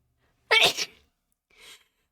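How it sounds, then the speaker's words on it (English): A single sharp sneeze bursts out, followed after a pause by a softer breathy exhale, with silence around it. "I'm gonna sneeze."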